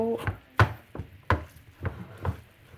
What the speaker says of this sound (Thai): หมูสับนี่ผมจะผัดให้เขา